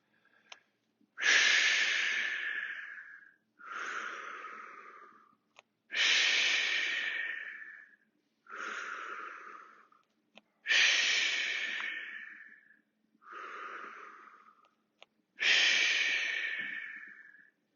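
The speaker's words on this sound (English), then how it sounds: "Exhale back. Inhale forward. Exhale down and back. Inhale forward." Heavy rhythmic breathing during a fitness class exercise, seven long loud breaths at a steady pace with short pauses between, close and alone with no talking.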